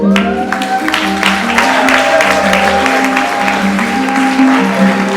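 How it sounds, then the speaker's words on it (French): An audience applauds steadily after a slam poetry performance opening the Perfect Fashion Day fashion show, the clapping dense and sustained over music playing underneath. "On accompagne Lady Riaba avec des applaudissements."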